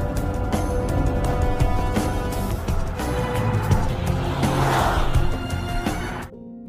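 Film car chase with continuous loud engine roar and road noise, punctuated by sharp impacts and clatter, ending abruptly.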